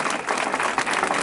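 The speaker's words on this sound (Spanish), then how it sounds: "Un aplauso para ellos" Dense, steady applause from a crowd at a Spanish town festival in La Gineta, continuous clapping throughout at a lively, even level.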